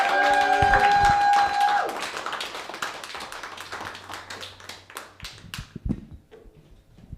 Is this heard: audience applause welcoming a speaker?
yes